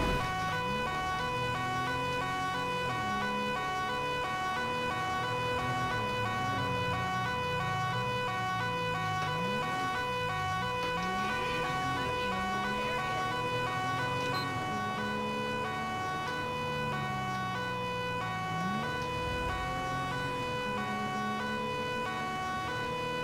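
An ambulance siren wails in the video game GTA 5, close and loud, in repeating rising and falling sweeps over a steady high electronic tone for the whole stretch, with no voices.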